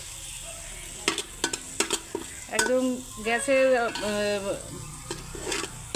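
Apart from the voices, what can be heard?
ginger, garlic and radhuni paste frying and being stirred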